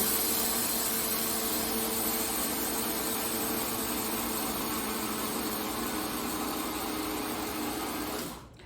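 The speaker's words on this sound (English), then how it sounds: "You can kind of hear the grinder also. You can hear it change, you know, in the beginning it's really grinding and then you can tell that it's gotten a lot powderier" An electric grinder in a home kitchen pulverises ingredients into powder for grain-free raw crackers, a loud steady motor whine with a dense gritty roar that holds for several seconds and then cuts off, with no voices.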